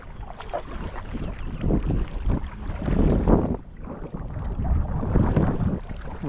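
Water splashes and sloshes as a kayak is paddled on a lake, irregular bursts of wash and dripping mixed with gusty wind buffeting the microphone nearby, and no voices.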